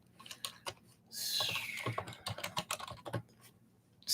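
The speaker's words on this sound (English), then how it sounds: "I will type it." Rapid clicking of keys on a computer keyboard, a steady run of close, dry taps through the whole stretch with a brief rushing swell partway in; no one speaks.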